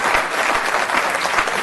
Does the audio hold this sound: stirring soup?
no